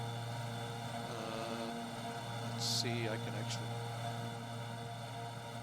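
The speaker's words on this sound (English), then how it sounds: "Let me see if I can dial that engine noise down here" Steady propeller engine drone of a bush plane in the X-Plane 11 flight simulator, flying in Alaska near Fort Yukon, a constant hum throughout while someone speaks briefly over it.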